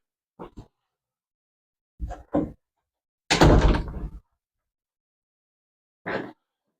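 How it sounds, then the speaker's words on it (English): An office door being handled and shut: two pairs of light knocks or rattles, then a loud, ringing slam, and a final softer thump a couple of seconds later. Each sound is close and separated by silence. "Had to hit this door to the office."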